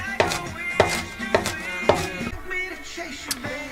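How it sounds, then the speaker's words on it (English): A knife chops green onions on a cutting board aboard a liveaboard boat, giving four crisp, evenly spaced thuds followed by a couple of lighter, scattered taps, close and clear against a quiet background. "the first thing I'm doing is chopping up 2 green onions"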